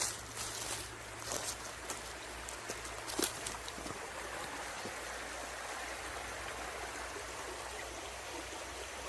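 A river in a wildlife reserve flows with a steady, soft rushing and trickling of water, with a few brief knocks and rustles near the start before the flow continues evenly on its own.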